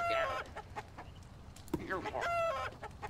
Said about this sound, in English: Why does it make chicken sound when you click on egg?